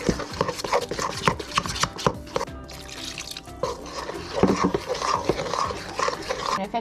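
Water is stirred into a cracker dough mixture in a bowl, making wet clicks, taps and sloshing scrapes in an uneven rhythm, close up and moderately loud, with no talking.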